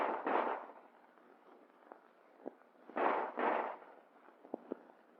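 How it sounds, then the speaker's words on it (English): WWII Army-issue Colt 1911 pistol firing during combat firing training: two loud, booming reports and several sharper, quicker cracks spaced irregularly over a few seconds, on a thin, narrow-band old recording with no talking. "combat firing trains men to fire instinctively from the standing position, pointing the gun as if it were a finger"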